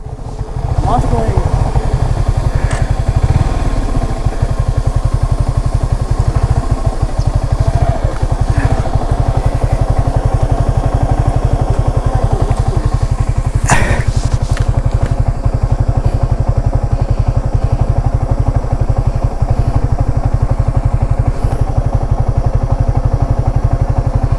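A motorcycle engine runs with a steady low rumble throughout, close by, while people talk over it on a ride to the Bijoypur china-clay hills near Birishiri.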